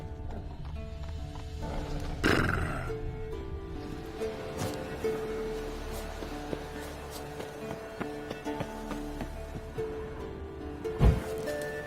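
Horse in The Witcher 3 game setting, with a brief snorting neigh near the start and another short burst near the end over a busy ambient game soundscape and soft music.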